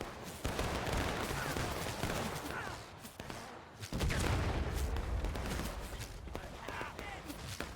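Musket volleys in an American Civil War strategy game, ragged bursts of massed firing with booming reports rolling across the battlefield, dense and continuous with brief lulls, a voice faintly under the din.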